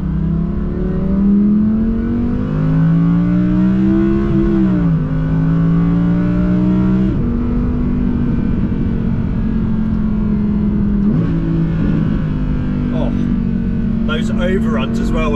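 A V10 Audi R8 engine pulls hard through the gears, its loud droning tone rising in pitch then dropping at each upshift, heard from inside the car with road rumble beneath and a brief crackle near the end.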